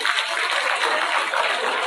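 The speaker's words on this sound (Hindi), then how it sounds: "उसके लिए एक बार तालियां हो जाएगी।" A crowd at a bus marshals' protest at Jantar Mantar applauds steadily: dense, even clapping fills the whole stretch with no break and no clear voice above it.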